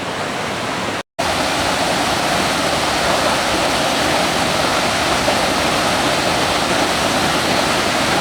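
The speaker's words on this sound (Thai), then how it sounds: "เรานอนฟังเสียงน้ำตก อาจจะเสียงดังไปนิ ดนึงนะครับ" A loud, constant roar of a nearby tiered waterfall at a campsite, broad and unbroken, with only a momentary cut early on.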